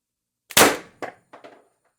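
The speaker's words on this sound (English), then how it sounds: "after the shot, I could hear the air from the tank start to preload" An Umarex TR50 HPA air rifle with an expansion stock, running on 100 psi, fires a single sharp, loud crack, followed by a few fainter metallic clicks and clangs as the mechanism settles.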